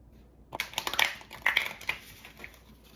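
Quick papery riffling of oracle cards, a few short bursts of shuffling close by, with a soft pause between flurries.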